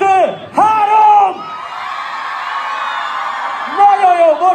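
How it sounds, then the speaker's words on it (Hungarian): A concert crowd of girls in Debrecen screams together in a long, loud, sustained shriek, with someone shouting to them before and after. "háromra szeretném hallani a csajoknak a sikítását"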